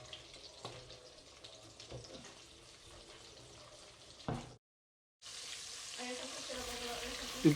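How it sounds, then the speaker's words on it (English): Risotto rice frying slowly and gently in butter, a soft steady sizzle with faint stirring and watery clatter, cutting out briefly before resuming a little louder. "to fry it just in the butter, slowly and gently"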